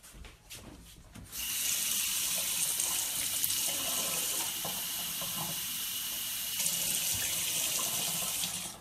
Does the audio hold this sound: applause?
no